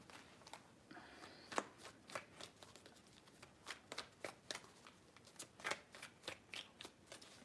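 Tarot cards are shuffled by hand in a quiet room, a series of soft, crisp riffling bursts in an uneven rhythm, close and fairly faint.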